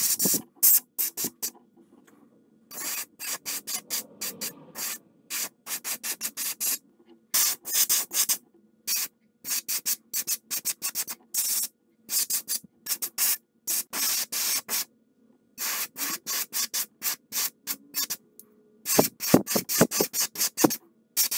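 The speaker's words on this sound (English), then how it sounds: "spray the top and then kind of fade it about to the midline there." Repeated short bursts of Pearl Satin Gold spray paint hissing onto a wooden bluegill jointed swimbait, close and fairly loud, pulsing on and off in an irregular rhythm of quick passes with brief pauses between.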